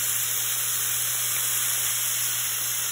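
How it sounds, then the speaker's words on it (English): Steak sears in a hot pan, giving a steady loud hiss and sizzle that holds evenly throughout, close and without speech. "Let it sear on the other side."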